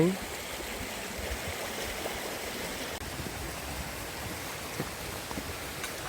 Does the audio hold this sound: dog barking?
no